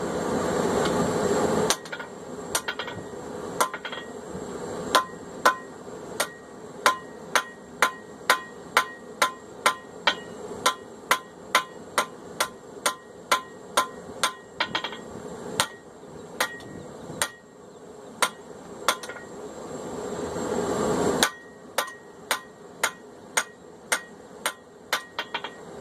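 A hammer strikes a hot knife blade in forging, a long run of sharp, evenly spaced metallic blows ringing out loud and close, broken by a brief pause midway before the steady hammering resumes.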